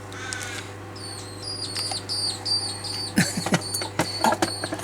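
A peewee, or magpie-lark, gives repeated sharp, piping calls while squabbling with another bird, a run of high notes followed by harsher scratchy cries, heard against a low steady hum with no talk.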